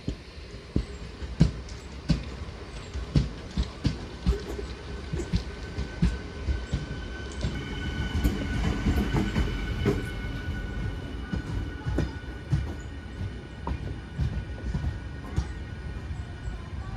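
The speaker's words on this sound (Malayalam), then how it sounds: "ആലപ്പുഴ മെമുവും നമ്മുടെ വണ്ടിയും ഇവിടെ നിന്ന് ഒരുമിച്ച് എടുത്തു കേട്ടോ." Tirunelveli–Bilaspur Superfast Express pulling out of a Kerala railway station alongside an Alappuzha MEMU: steady rhythmic clickety-clack of wheels over rail joints, rumbling and building through the middle, close and continuous with faint voices.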